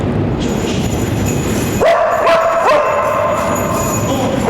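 A search dog barks repeatedly amid the loud rumble of a train during a smoke-filled rail evacuation drill, a few sharp barks in quick succession over steady noise.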